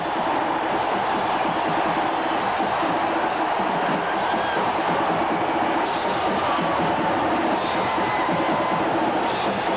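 An 86,000-plus crowd roaring at the 1991 Tennessee versus Alabama college football game, a dense, continuous stadium cheer that stays loud throughout.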